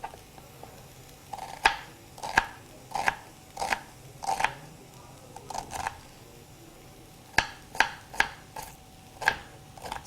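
Onion being chopped with a knife on a board in a cooking-show kitchen: sharp, irregular knife strikes spaced a second or so apart, close and fairly loud over a low background hum.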